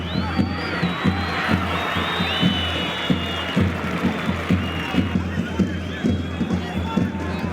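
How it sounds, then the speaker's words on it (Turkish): A crowd claps and cheers for head wrestlers at a 2022 Turkish oil wrestling (yağlı güreş) tournament, a steady broad roar over a droning pulse of live music, continuous and fairly loud throughout. "Alkışlıyoruz baş pehlivanlarımızı"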